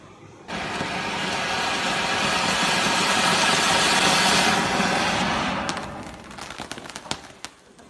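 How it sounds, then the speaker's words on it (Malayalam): A scooter engine hums steadily while riding along a quiet road, a continuous mid-pitched drone that fades after about five seconds into a few sharp knocks and clicks. "അപ്പോൾ ഞാനും അച്ഛനും കൂടിയിട്ട് സ്കൂട്ടി പോവാണ്"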